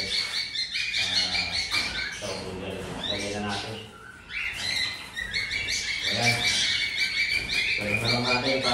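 Small birds chirp and tweet in busy, overlapping bursts as they are moved into a flight cage, with occasional squawks and faint rustling throughout.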